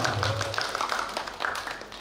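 An audience at a city-level quiz competition final in Palembang claps for team A, a brief scattered round of hand clapping over the hum of a large hall, with voices in the background.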